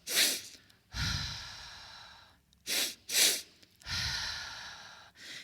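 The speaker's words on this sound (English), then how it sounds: "which consists of a double inhalation through the nose and a long exhalation through the mouth." Breathing exercise: a double sniffing inhalation through the nose followed by a long, audible exhalation out through the mouth, heard twice in close, quiet succession with no other sound.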